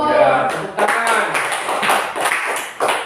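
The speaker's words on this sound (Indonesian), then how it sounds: "Ya, tepuk tangan." Students in a classroom clap their hands in short, uneven bursts, close and fairly loud, while people talk over the clapping.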